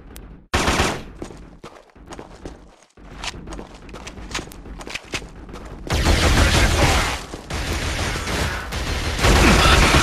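Gunfire from the video game Killzone erupts in dense rapid bursts, mixed with footsteps early on, then a sustained loud barrage of automatic fire over the last few seconds.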